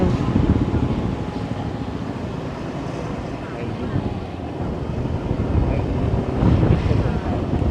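Wind blows steadily across Bangsaen Lang beach at Wonnapha in Bangsaen, Thailand, buffeting the microphone with a loud, continuous rumbling roar that swells slightly toward the end.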